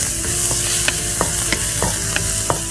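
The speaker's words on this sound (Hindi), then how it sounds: "यहाँ प्याज डाल देते हैं" Chopped onions frying over high heat in a pan for egg bhurji hiss loudly and steadily, while a spatula scrapes and taps in a regular rhythm roughly every half second, close up with no voices.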